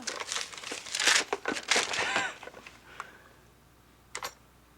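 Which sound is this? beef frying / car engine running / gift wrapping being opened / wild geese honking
gift wrapping being opened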